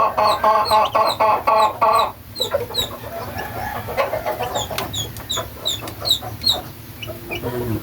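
Young chicks peep and cluck close by in a flock, with a dense run of rhythmic clucks at first, then many high, repeated cheeps scattered over a low background noise.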